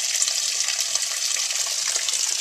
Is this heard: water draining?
yes